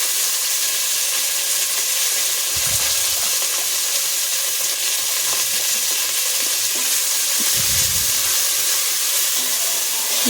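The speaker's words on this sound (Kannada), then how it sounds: "ಎಲ್ಲವನ್ನು ಚೆನ್ನಾಗಿ ಫ್ರೈ ಮಾಡ್ಕೊಬೇಕು" Ingredients including garlic fry in hot oil for tomato biryani, giving a steady, loud, close sizzle throughout, broken by a couple of dull stirring knocks.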